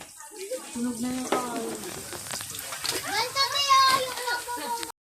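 Oil sizzles and crackles steadily in a pan frying catfish for adobo while several people chat over it nearby.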